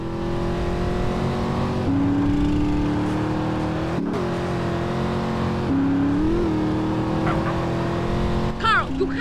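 Car driving in GTA San Andreas during a small-town bank mission, a steady engine drone shifting pitch as it accelerates, with brief tire and impact noises near the end.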